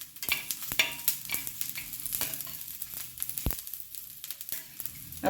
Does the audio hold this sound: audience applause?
no